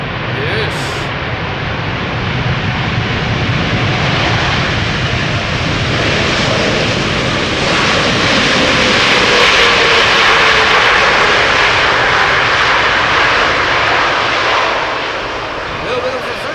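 A wide-body airliner rolls out on landing at Amsterdam Schiphol, its engines roaring loud and steady in sunny weather as thrust reversers swell the noise midway before it eases off.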